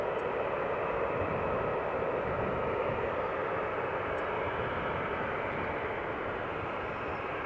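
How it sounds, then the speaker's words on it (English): A Ryanair airliner from Gdansk on approach to Edinburgh Airport gives a steady, broad engine roar that holds at an even level throughout, heard from a distance with no voices. "Ryanair from Gdansk just on the approach now as well"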